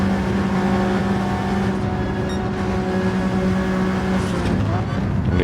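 An Acura NSX race car engine in Gran Turismo 7 hums at a steady high pitch, loud and close, with a brief shift in tone near the end and a voice talking over it.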